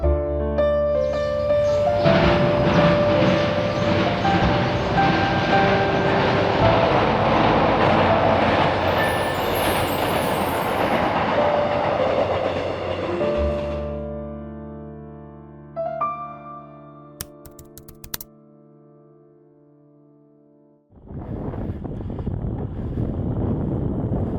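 A train runs alongside the Jiseokcheon river at the foot of Yeonjusan in Hwasun, South Korea, passing loud and close with a broad steady roar and rumble that fades out, a brief gap, then returns as wind or rushing noise.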